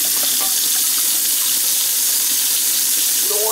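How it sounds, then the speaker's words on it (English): Water runs steadily from a faucet into a sink, a continuous hissing splash at close range with a faint rising tone near the end. "We got a nice faucet here."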